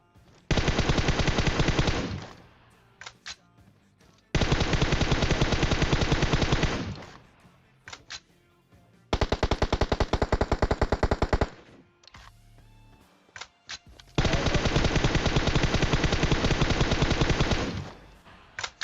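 Bursts of automatic gunfire in the PUBG Mobile battle game, four long sustained volleys of rapid shots separated by short quiet gaps, loud and close with no talking.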